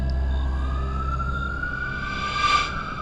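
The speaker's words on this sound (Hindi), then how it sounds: "दूर से पुलिस सायरन की आवाज आनी शुरू हो गई।" A police siren wails faintly in the distance, rising and falling over a low, steady engine hum.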